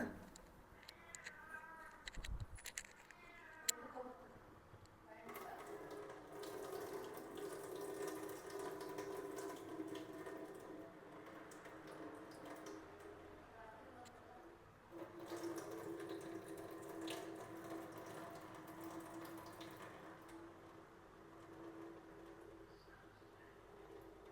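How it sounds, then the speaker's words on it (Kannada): Water drains from salted brinjal pieces for a brinjal stir-fry, heard as a soft, continuous trickle and splash in quiet, faint surroundings, with occasional birds far off. "ಈಗ ನೀರು ಬಸಿತೇನೆ ಇದ್ರದ್ದು."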